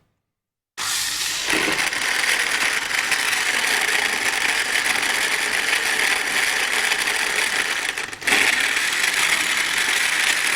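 A kitchen blender or grinder starts up after silence and runs continuously at a loud, high whine, with a brief dip and surge near the end as the speed shifts.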